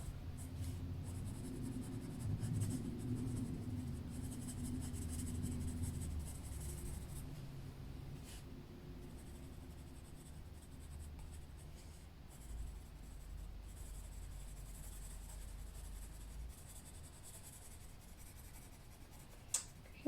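A colored pencil burnishes across paper in a steady, faint scratchy rubbing that goes on for the whole stretch, close and quiet, with a few small clicks.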